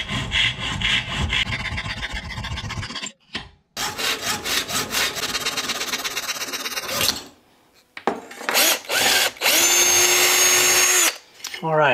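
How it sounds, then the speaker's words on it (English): A saw cuts wooden legs to length in close, rasping back-and-forth strokes that come in several bursts separated by short pauses. "And I'll cut both these legs at the same length."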